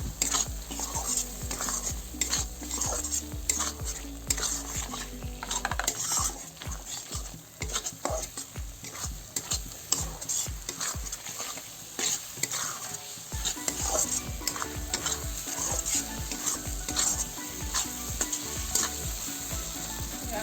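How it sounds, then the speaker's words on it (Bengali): Potatoes are stirred into a sizzling masala for egg omelette curry, with steady frying hiss and rapid, repeated scraping and clanking of a spatula against the pan, close up and without voices. "আলু দিয়ে একটু নাড়াচাড়া দিয়ে জল দিয়ে দেবো"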